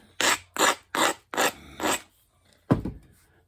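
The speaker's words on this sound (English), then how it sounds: "Let's see what it looks like when I grind it." A Black Buffalo River stone nodule is ground in five quick, even rasping strokes, then a short pause and one final louder stroke, close and harsh.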